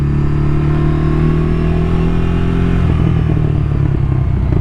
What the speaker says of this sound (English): Burble which is coming out from the exhaust sounds really good.